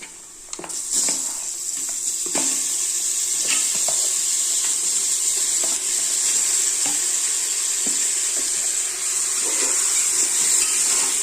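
Mutton sizzles loudly in a hot pan for the full length, a constant bright hiss with scattered pops and crackles and occasional stirring scrapes, no talk.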